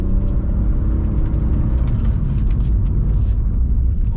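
A BMW E46 car accelerating in second gear while drifting on concrete, a dense, loud, steady low engine rumble heard from inside the cabin, continuous and without pauses.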